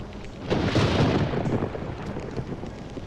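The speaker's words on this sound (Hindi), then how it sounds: "कमाल का तूफान आया यहाँ।" A night thunderstorm in a romantic film scene, with a deep, rolling thunder rumble that swells and then fades into a steady wash of storm noise. No one speaks.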